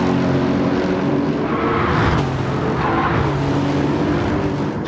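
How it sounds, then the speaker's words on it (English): In Gran Turismo 7, a Lexus race car roars continuously at Interlagos, loud and close, with the engine note dropping as it shifts down through the gears and no talk over it. "See the flames licking out the side exhaust of that Lexus as we go down the gears"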